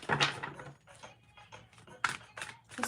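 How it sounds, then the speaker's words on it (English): Tarot cards being shuffled by hand, giving a run of crisp papery riffles and soft taps in short bursts, close and fairly quiet, with no talking. "I gotta shuffle my shit real quick."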